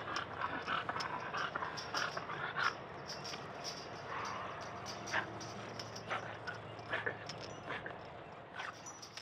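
A Shorty Bull dog pants in quick, rhythmic breaths close by, soft and steady, with occasional small whimpers and faint movement noises in a quiet room.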